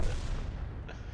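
Tank cannon shot from an M4A3E2 Sherman Jumbo in World of Tanks, a single booming report at the start that rolls into a sustained low rumble, loud and close with no talking.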